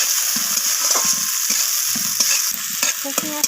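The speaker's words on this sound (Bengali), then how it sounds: "পেঁয়াজগুলোকে আমি হালকা বাদামি রং ধরা পর্যন্ত পেঁয়াজগুলোকে আমি ভাজা করে" Sliced onions fry in a pan until lightly browned, a bright steady sizzle broken by a utensil's scrapes and knocks as they are stirred, close and loud.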